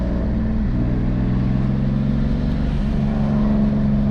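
A turbocharged BMW E46 engine pulling hard under acceleration, a loud continuous drone with harmonics that rise steadily in pitch, heard from inside the car.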